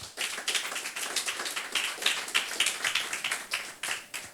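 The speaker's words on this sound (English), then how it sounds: "With a hand of applause, please" Applause from a seated audience at an embassy information session in an office, a scattered patter of claps that runs steadily for a few seconds without any voices.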